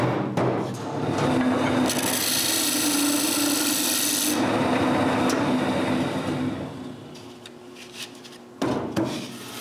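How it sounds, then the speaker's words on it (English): Wooden nutcracker bottom being turned on a lathe: a steady rubbing, scraping drone of the cutting tool against spinning wood with a brighter hiss midway, then easing off with a few knocks near the end. "I turn the bottom of the nutcracker"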